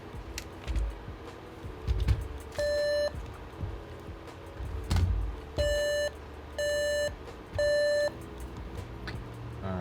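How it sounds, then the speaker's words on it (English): Electronic diagnostic beeps from a Dell OptiPlex 3050 motherboard: one long tone, then three evenly spaced long beeps, over clicks and light handling noise. "So what's the beep code we're getting?"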